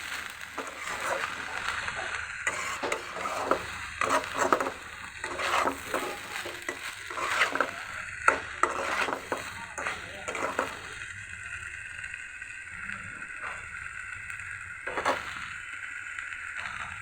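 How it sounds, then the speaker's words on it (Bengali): Zarda sweet rice made from polao rice is stirred and fried in a pan over low heat, with repeated scraping and stirring knocks over a faint sizzle, close and irregular, growing quieter toward the end. "জর্দাটা আমি ভালো মতো নেড়ে ভেজে নিচ্ছি"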